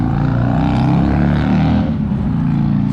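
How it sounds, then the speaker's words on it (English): A supercharged car engine roars and revs close by at a morning car meet, loud and sustained with a rising, throaty exhaust note that runs the whole stretch with no talk. "Sounds like a supercharged Charlie."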